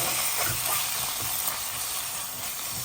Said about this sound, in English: Now I give it a good mix.